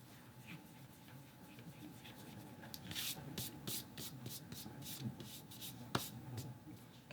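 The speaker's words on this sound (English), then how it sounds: "I'm just gonna rub off the extra adhesive that's on the outside of those." Extra adhesive is rubbed off by hand, a faint, close rhythmic scrubbing of short repeated strokes under a quiet background, ending with a single sharp tap.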